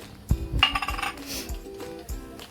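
Mustard seeds and cumin dropped into hot oil in a metal pan, with sharp clinks and scattered small crackles and taps close by.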